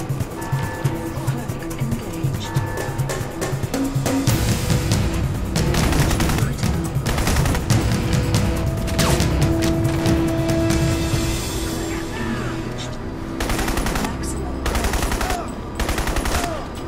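Sustained automatic assault rifle fire in the shooter Crysis Warhead, with bursts rattling continuously over a dense battle din of explosions and vehicle rumble, loud and close throughout.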